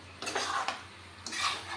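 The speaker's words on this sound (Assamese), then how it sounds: "এতিয়া এইখিনি ভালকৈ ভাজি লওঁ" Potatoes and jackfruit flower frying in a pan, with two bursts of metal spatula scraping and stirring against the pan over a low background hum.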